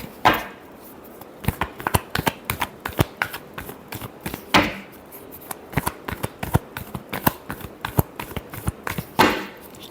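Tarot cards are shuffled up close in a quick series of crisp, snapping riffles and taps, with a few heavier swishes, heard alone at a fairly soft level.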